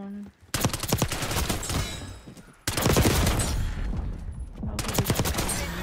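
Rapid bursts of PP919 Bison submachine gun fire in the video game Black Ops 6, three loud sustained volleys separated by brief pauses, close and dense with rattling shots.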